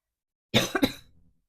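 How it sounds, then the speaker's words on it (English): A single sharp cough followed quickly by a second, close and fairly loud, then silence. "I keep coughing."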